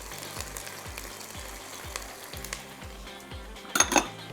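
Chopped garlic added to daal frying in a pan, with a steady sizzle, rhythmic stirring or scraping, and a brief clatter near the end.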